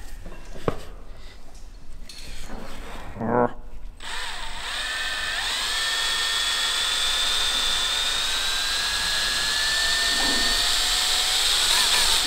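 Power drill boring through metal with a blunt bit during an automatic-to-manual conversion on a Nissan Skyline, a steady loud whine rising in pitch and running continuously after a few short bursts, with voices briefly at the start.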